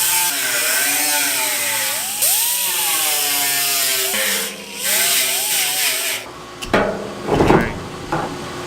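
A 3-inch roll lock sanding disc grinds across a 1972 Datsun 240Z gas tank, a loud, steady abrasive whir whose pitch sags and recovers under pressure, then stops, leaving scattered scrapes and handling knocks.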